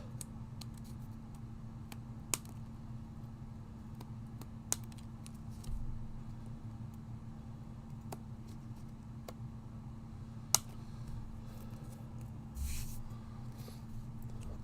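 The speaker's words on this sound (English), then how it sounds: "And now all I'll do is I'll take my scissors" Scissors trim paper at a quiet craft table, giving a few sparse, crisp snips spaced seconds apart over a low steady background hum.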